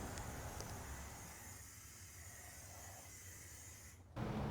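A spray can of clear finish releases a continuous soft hiss for about four seconds during a dresser refinish, faint and steady, then cuts off abruptly.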